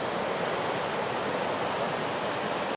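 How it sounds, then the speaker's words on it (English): Small waterfall on a Scottish Highland river, a steady, dense rush of falling water that stays loud and even throughout without a break. "Pretty little waterfall just there."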